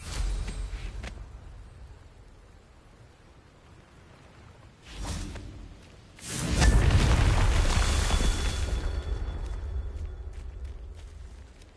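A Confringo explosion spell goes off in a video game: a short whoosh, then a loud booming blast that rolls on with a long rumbling tail.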